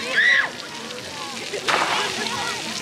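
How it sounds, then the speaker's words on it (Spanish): Recycled water from a public fountain falling and splashing steadily, a broad wash of spatter with a brief louder burst partway through, while children's voices and street noise mingle nearby. "la misma agua que está cayendo, la misma agua que está volviendo a subir"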